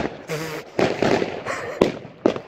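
Fireworks explode on New Year's Eve, a run of sharp bangs and crackling bursts from several directions, some close and loud, others farther off, with faint voices in the background.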